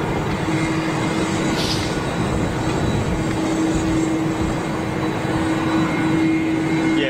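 Delta Airbus A330 jet on the runway at Schiphol airport, a steady distant engine roar with a faint constant whine, continuous and even throughout with no voices.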